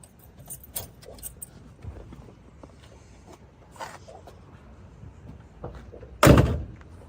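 A muscle car's door swings shut with a single loud, solid slam near the end, preceded by quieter handling clicks and faint rustles close by.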